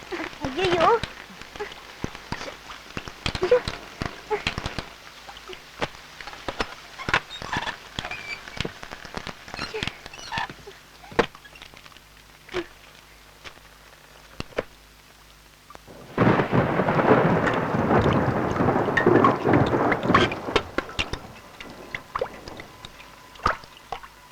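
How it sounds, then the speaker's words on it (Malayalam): Heavy rain pouring down on a house during a thunderstorm, with frequent sharp cracks and drips at first, then a dense, loud downpour swelling near the end. People are talking between the bursts. "മഴ തോരുന്ന ലക്ഷണേ ഇല്ല"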